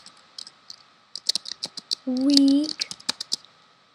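Close computer keyboard typing in quick separate clicks, pausing briefly while a voice speaks over part of it, then resuming in a rapid run of keystrokes.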